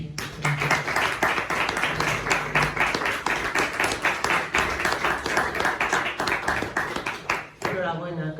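An audience claps for two book authors at a book presentation, with dense, steady applause running throughout and a voice speaking over it near the end.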